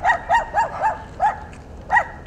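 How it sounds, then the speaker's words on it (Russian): Dogs in kennel enclosures bark loudly in a string of about six sharp woofs, spaced irregularly, with a short pause before the last one and no talking over them. "Уже за несколько сотен метров от вольеров слышен громкий лай собак"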